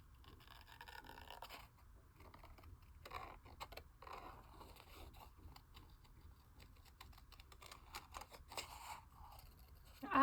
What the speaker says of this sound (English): don't move your scissors, move the paper